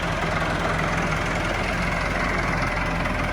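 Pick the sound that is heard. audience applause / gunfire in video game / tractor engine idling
tractor engine idling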